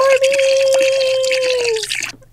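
Bubble solution full of Orbeez water beads is poured back into a container, a short wet trickle and drip close by, with a long high-pitched voice over it.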